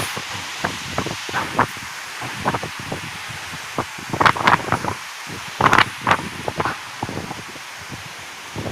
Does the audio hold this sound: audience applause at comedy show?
no